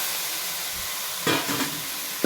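Steady sizzling hiss from a hot pan of sautéing tomatoes, with a few louder stirring scrapes as they are moved around.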